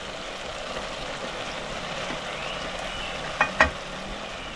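Grated egg fries in a masala gravy in a pan with a soft, continuous sizzle, broken near the end by two quick knocks of a utensil, close and moderately loud with no talk.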